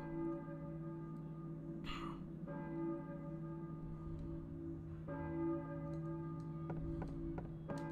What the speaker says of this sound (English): Church bell, I think it... But who is ringing it?